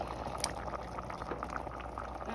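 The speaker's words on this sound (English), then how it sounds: "This is the time after the 10 minutes where you add the zucchini." Chicken noodle soup boiling in a pot as zucchini goes in, making a continuous low bubbling and splashing churn with a few soft plops, fairly quiet and without speech.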